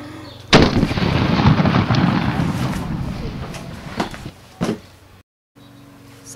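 Gunfire from a gun in a zombie-hunting comedy setting: a loud, dense burst of sustained shots with reverberant rumble, tapering off, followed by two sharper isolated reports and a brief silence.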